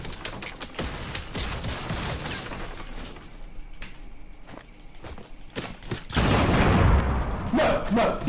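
Video game gunfire rattles in rapid volleys with dense clicking shots through the first half, a quieter stretch, then a loud, sustained burst near the end.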